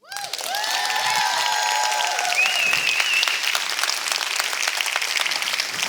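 Sustained audience applause after a speaker finishes a talk, a dense wash of many hands clapping at steady loudness, with a few bright whistles or cheers rising over it early on.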